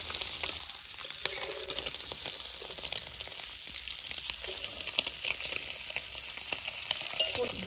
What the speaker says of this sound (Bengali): পনির ভাজা হয়ে গেছে